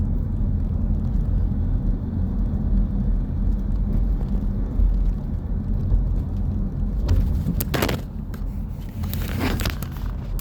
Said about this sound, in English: That truck, he left and passed me.